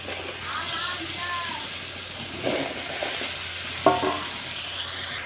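Spices for a fish curry with taro stolons are stirred and fried in a pan, a soft steady sizzle with occasional scraping clinks of the spoon, heard under intermittent talking.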